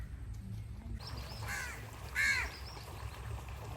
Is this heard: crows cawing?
yes